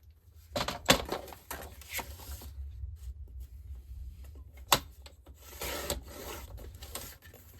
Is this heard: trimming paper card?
yes